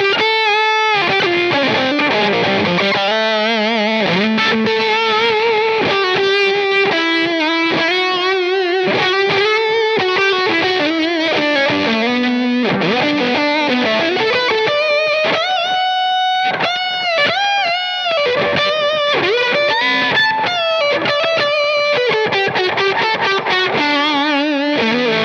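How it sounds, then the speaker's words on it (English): A distorted electric guitar through a Warm Audio Warm Bender fuzz pedal plays a continuous melodic line with thick, saturated fuzz tone, loud and sustained without pause. "It's almost like a distortion pedal, really tight."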